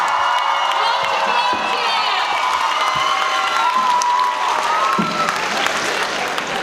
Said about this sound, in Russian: Проводим группу бурными аплодисментами.